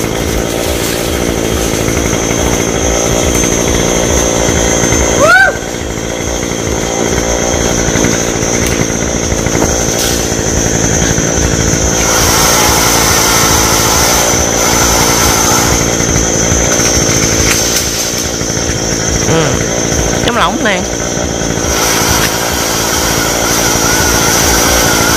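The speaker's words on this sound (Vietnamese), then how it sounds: "tao cưa cái nhánh phía bên bên nhà người khác trước" A chainsaw cuts through branches of a tall golden oak (Sao) tree, running loud and steady the whole time with a few revving surges; the engine note bends sharply near the start and again toward the end.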